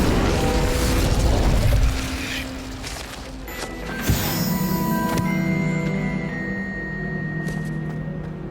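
Incendio fire spell cast in Hogwarts Legacy on Nintendo Switch: a dense, roaring burst of flame opens the clip, then a sharp crack near the middle, followed by a steady crackling, sizzling tail with faint chimes.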